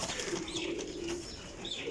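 Flying pigeons cooing softly in a loft, a low steady burbling coo repeating under faint background noise, fairly quiet and close.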